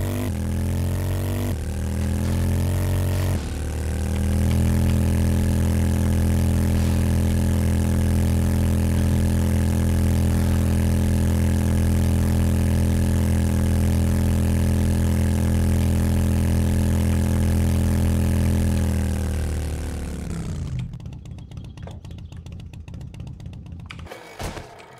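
A vehicle engine in the video game 7 Days to Die drones with a steady, buzzy, harmonic hum that holds for about twenty seconds, then drops away into quieter clatter.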